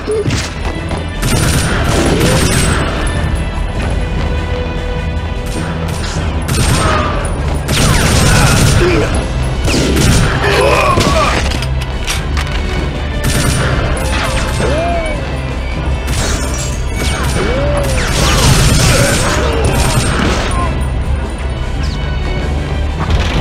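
Gunfire and crashing impacts from TimeSplitters Future Perfect, in a 1924 Scotland mission, sound in dense repeated volleys over a loud game soundtrack, with voices talking at times.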